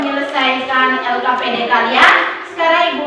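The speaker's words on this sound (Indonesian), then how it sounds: "tepuk tangan untuk kelompok 2" Students in a classroom clap for a group of classmates, a fairly loud, continuous patter of hands mixed with children's voices and chatter, with a brief louder burst near the middle.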